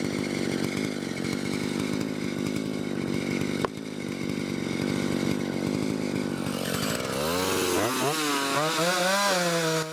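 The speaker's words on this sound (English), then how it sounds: "I must admit that the 1959 Stihl Contra chainsaw is working very well." A 1959 Stihl Contra chainsaw fells a tree, its engine snarling loud and steady at cutting load, then the pitch swings up and down in revs near the end.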